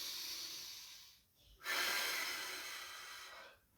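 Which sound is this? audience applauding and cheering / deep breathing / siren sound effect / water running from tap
deep breathing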